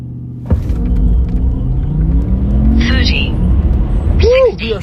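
Tesla Model S Plaid launching hard down the Tucson Dragway strip against a Jeep Trackhawk, a sudden loud surge of drivetrain rumble and whine from close range, with excited speech over it.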